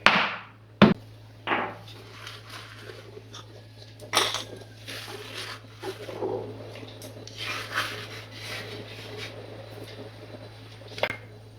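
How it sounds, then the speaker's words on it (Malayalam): Jaggery is pounded to powder for puliinji, giving irregular close knocks and thuds with gritty scraping between them, and a faint steady hum underneath. "എന്തായാലും ഞാൻ ഒരെണ്ണം കൂടി പൊടിക്കുന്നുണ്ട്."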